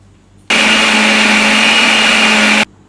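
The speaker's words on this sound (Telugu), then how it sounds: "సో ఇవన్నీ కలిపి బ్లెండ్ చేద్దాం" A blender whirs as it blends lemon, salt and pepper, a loud, steady, high-pitched motor roar lasting about two seconds that starts and stops abruptly.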